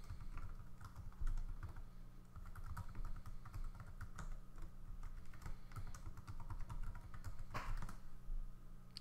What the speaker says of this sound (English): And I typed something incorrectly,